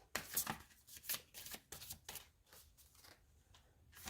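An oracle card deck being shuffled by hand, a quick series of soft riffling flicks and slaps in an uneven rhythm, close and quiet.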